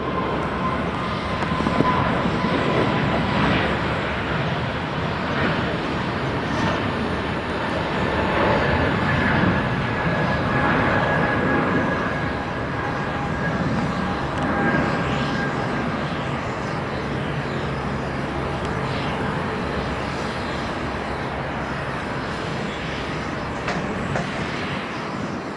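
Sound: Air Baltic airliner passing at Tenerife South Airport

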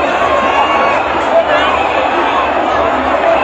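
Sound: large crowd of supporters at a rally in Monrovia

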